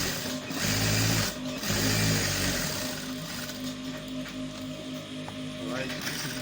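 A sewing machine stitches the collar of a school uniform, running in short close whirring bursts with brief stops between them, while a voice talks over it.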